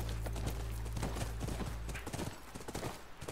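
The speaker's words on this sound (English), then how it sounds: "That's our horse." A horse's hooves clip-clop in The Last of Us video game: a steady, rhythmic run of close hoofbeats over a low rumble, with no talking.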